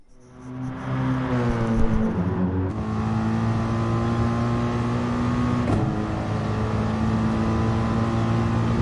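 Race car engine driving a full lap of the Autodrome circuit in Gran Turismo Sport, a loud, steady high-revving drone with rising gear pulls and a brief dip and shift partway through, heard alone.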